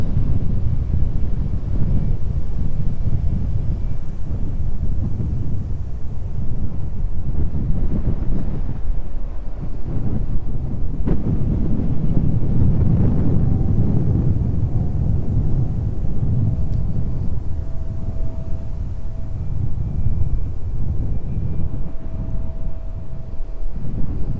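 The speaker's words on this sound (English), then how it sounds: "Wow, that wind really is picking up." Strong wind buffets the microphone at East Midlands Airport, a loud, continuous low rumble with gusting surges that swell and fade throughout, with no talking.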